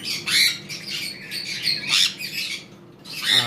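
A pair of cockatiels give repeated harsh, high squawks in close bursts, with short pauses between calls and a faint low hum underneath.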